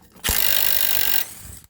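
A DeWalt ultra compact impact wrench hammering on a 2006 Honda Civic's lower ball joint, one dense rattling burst of just over a second, loud and close, then trailing off.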